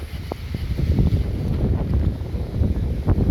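Strong wind buffets the microphone outdoors on the Town Green in Biloxi in a constant low roar, with gusts rising and falling throughout.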